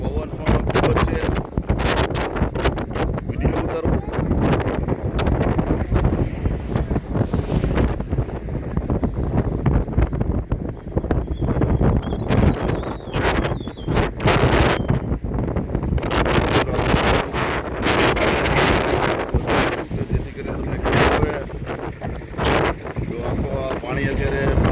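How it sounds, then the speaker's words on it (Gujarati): Strong wind buffets the microphone beside the flooded Machchhu river in Wankaner, a loud continuous roaring rumble with gusty surges, while someone talks over it. "પવન પણ ખૂબ જ છે."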